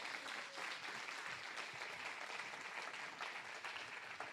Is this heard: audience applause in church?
yes